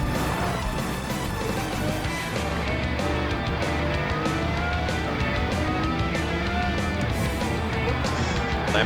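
A Lamborghini Huracan race car engine roars loudly and steadily in a racing video game, a continuous close motor drone with no talk over it.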